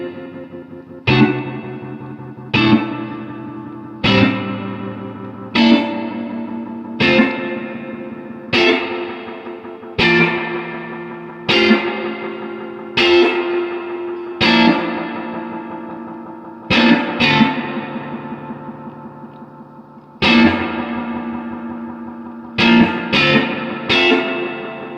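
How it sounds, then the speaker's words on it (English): A Behringer VM1 analog delay pedal set for a dark, ratty, broken tape-echo tone, with about sixteen guitar notes or chords plucked at a steady pace. Each one decays into smeared, distorted repeats, the last few coming in a quick cluster. "like kind of dark, ratty, broken tape kind of sound"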